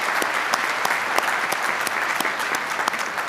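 Steady applause from a commencement ceremony audience at Blue Ridge Community College, a dense continuous wash of many hands clapping at an even level throughout.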